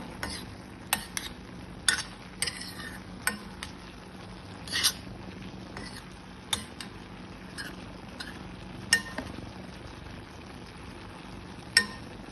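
A spoon scrapes and clacks now and then through a simmering beetroot and red bean curry in a pan, with a steady soft bubbling underneath and no talking.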